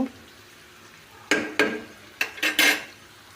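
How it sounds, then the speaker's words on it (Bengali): Tomato and other ingredients fry in oil in a pan; after a quiet start, a utensil clatters and scrapes against the pan in about five sharp, close strokes over a faint background. "সবগুলো এখন ভালো করে তেলে ভেজে নেব।"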